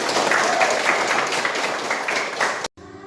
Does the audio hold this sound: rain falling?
no